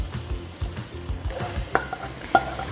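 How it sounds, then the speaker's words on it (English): Onions frying in olive oil on high heat with a steady sizzle, punctuated by rhythmic scraping and stirring sounds close by. "we're frying the onions on high heat until it's nice and brown"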